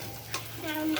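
Food sizzling in hot oil in a home kitchen pan while being stirred, a short steady frying hiss with a brief scrape partway through, close and moderately loud, a faint voice tone near the end.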